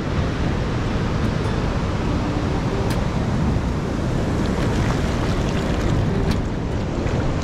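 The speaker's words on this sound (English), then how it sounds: "boy, the waves roar right in." Steady, loud roar of surf with waves rushing onto a New Zealand North Island beach, mixed with wind buffeting the microphone, continuous throughout with no voices.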